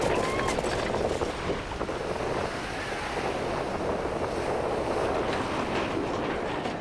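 Strong wind of about 20 knots roars across the microphone while waves wash and surge against a sailing boat, a dense, steady rush of noise filling the whole stretch with no speech.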